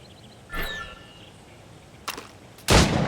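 Gunshots ring out at shooting targets in Assassin's Creed Rogue, three sharp reports spaced unevenly, the last one loudest, each trailing a short echo over a quiet background.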